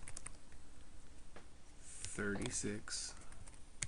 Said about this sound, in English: I'll type it up.